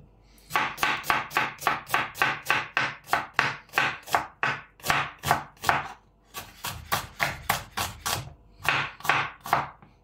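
A knife chops food finely on a cutting board in rapid, steady strokes, loud and close, with a few brief pauses between bursts; no one speaks.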